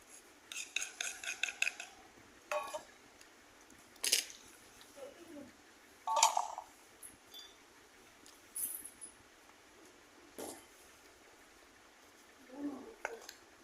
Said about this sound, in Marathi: तर आता मी या डब्यात टाकणार आहे